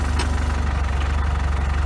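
A forklift with a torque-converter transmission idles close by with a steady, low, pulsing engine rumble that holds evenly throughout, while reverse gear is engaged.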